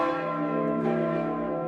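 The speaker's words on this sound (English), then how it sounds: "Bells rang endlessly," Church bells ring in a sustained, resonant peal, their overlapping tones humming steadily and loudly throughout with no voices.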